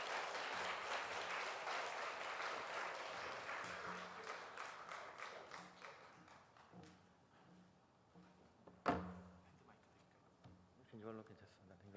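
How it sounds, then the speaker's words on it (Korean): Audience at a parenting seminar applauds in welcome of two missionaries: full clapping fades gradually over several seconds, followed by a brief thump and then a voice beginning to speak near the end. "큰 박수로 환영해 주시기 바랍니다"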